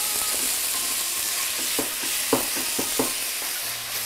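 Lean ground beef, ninety percent lean, sautéing in a pan: a loud, steady sizzle with scattered spoon scrapes and clicks near the middle, close up and with no voices.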